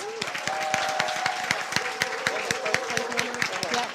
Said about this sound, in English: We can now give them a round of applause.